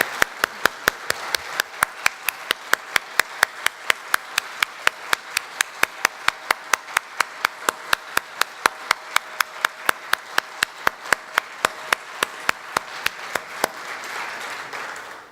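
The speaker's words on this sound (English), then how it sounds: "Let's have a big round of applause." Sharp, evenly spaced claps repeat at a steady rhythm for about fifteen seconds at a university event at McGill, clear and fairly close with little else heard.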